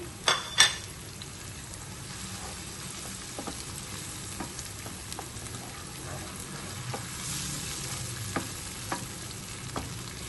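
Tomato paste fries with garlic in a pan for an Indian tandoori potato bharta, a soft continuous sizzle broken by scattered spoon scrapes and stirring clicks, including two sharper knocks near the start.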